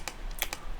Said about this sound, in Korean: Alt and T Enter 치게 되면 여기 표가 되는 거죠